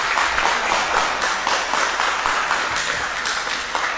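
An audience at a quiz applauds a team, several seconds of dense, steady clapping from a moderate-sized crowd, fairly close and continuous with no voices.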